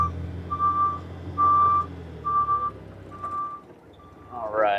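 A Yale GLP040SVX propane forklift driving in reverse gives off a steady series of about five evenly spaced reversing beeps over a low engine rumble, with someone talking partway through.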